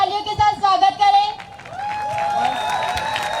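An audience at a grand alumni meet claps to welcome a group onto the stage, a short burst of applause under and between someone speaking over a microphone.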